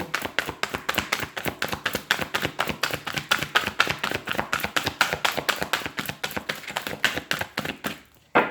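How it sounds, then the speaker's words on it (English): A deck of cards is shuffled again and again, a rapid run of crisp riffling taps in steady bursts, close and clear, ending with a short pause and one last snap. "Let's do one last shuffle."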